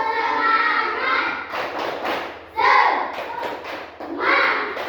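Children in an Indonesian class perform a rhythmic spirit clap, with short groups of sharp claps alternating with chanted young voices.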